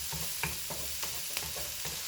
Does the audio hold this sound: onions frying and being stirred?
yes